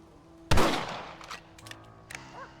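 A single loud rifle shot in the Western game Red Dead Redemption, sharp and close, followed by a decaying echo and a few fainter clicks and thumps.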